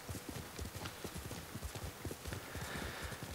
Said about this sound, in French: Qu'est-ce qu'il est rapide ce cheval, on le laisse en haut et il est déjà là.